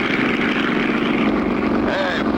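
A cartoon flying machine's engine drones in a steady, loud propeller hum that stays even throughout, with a voice speaking over it near the end.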